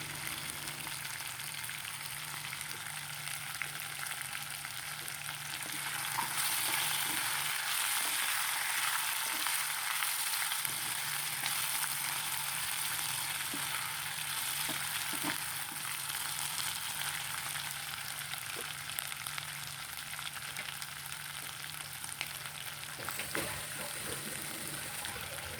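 Kenaf leaves and chicken frying in a pan for a traditional Bodo dish, a steady, close sizzle and crackle of oil with occasional stirring, continuous throughout and free of talk.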